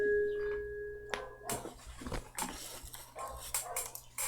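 A dog gives a run of short, sharp barks and yips up close, in irregular bursts of moderate loudness after a brief quiet start, with no talking over it.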